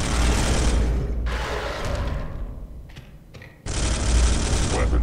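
Loud sustained weapon fire from the Space Hulk video game, a dense rattling burst that stops, leaves a few mechanical clicks, then roars back in full.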